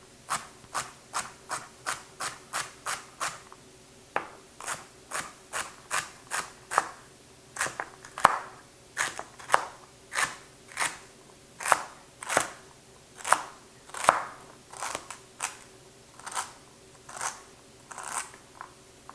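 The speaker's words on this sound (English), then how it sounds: "I'll go rinse them and then dice them up." Celery stalks are diced with a knife on a board at home while making chicken noodle vegetable soup, giving a steady series of crisp chops, about one per second, close and fairly quiet.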